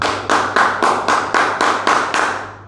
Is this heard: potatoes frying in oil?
no